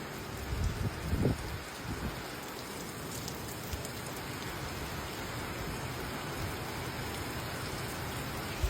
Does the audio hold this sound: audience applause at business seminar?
no